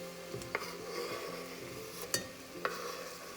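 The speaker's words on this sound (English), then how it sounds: "Add the chopped tomatoes to this now." Chopped tomatoes tipped into a pan of spinach dhal, a soft sizzle with a few sharp clinks of a utensil against the pan, close but quiet, without speech.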